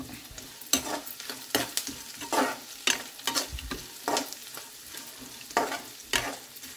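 Poha being stirred and fried in a pan, with repeated scraping strokes of a spoon against the pan about once or twice a second over a soft, continuous sizzle, close and alone without talk.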